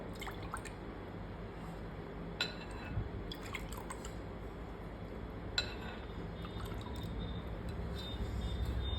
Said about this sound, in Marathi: आता मी याच्यामध्ये पाणी टाकते